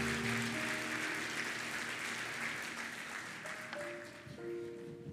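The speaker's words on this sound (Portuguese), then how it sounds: "A igreja aplaude ao Senhor por esta família" A church congregation applauds during a family blessing at a worship service, steady dense clapping filling the room at moderate distance, with faint sustained organ or keyboard tones underneath.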